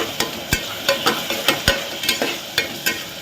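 A ladle scrapes and stirs green chilli mint paste sautéing in a pan, giving repeated sharp knocks roughly every half second over a soft sizzle.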